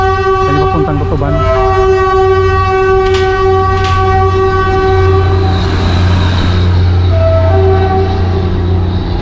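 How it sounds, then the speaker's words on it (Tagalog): A passenger train rumbles through a tunnel near Tomas Claudio Street in Manila, heading toward Tutuban, sounding loud and continuous with sustained horn tones and metallic clatter throughout. "Ayan yung dumadaan ng mga train."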